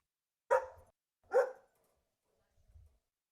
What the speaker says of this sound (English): My dog barks loudly.